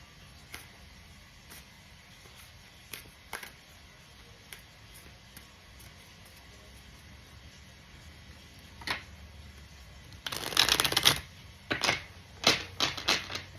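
Tarot cards being shuffled, with soft scattered taps and flicks at first, then a short burst of dense riffling and a few sharp card snaps near the end, close and fairly quiet.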